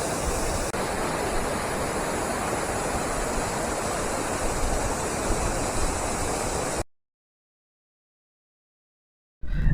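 Anaimedu waterfall near Salem pours in a steady, loud broadband roar of falling water for nearly seven seconds, then cuts to silence before the rush briefly returns at the end.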